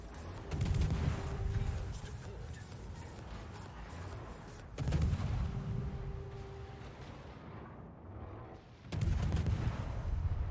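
Naval guns boom in a World of Warships battle involving a Tier 8 British destroyer, with three loud, heavy salvos spaced a few seconds apart, each followed by a rumbling tail, and no voices.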